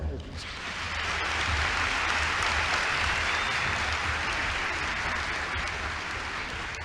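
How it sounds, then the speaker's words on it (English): Sustained audience applause for a choir at a Science Week South Africa event, a broad, even roar of many hands clapping that swells quickly and holds steady at full strength. "So another round of applause to the choir."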